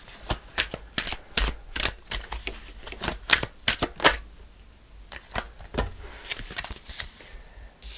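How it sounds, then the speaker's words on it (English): Angel cards being shuffled for a tarot reading: a close run of quick, crisp riffling bursts in an irregular rhythm, heard alone without speech. "Let's pull an angel card."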